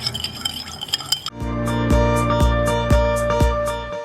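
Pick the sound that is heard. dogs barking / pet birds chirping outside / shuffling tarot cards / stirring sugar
stirring sugar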